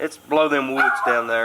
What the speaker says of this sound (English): Sorry about that dog, he's wanting in.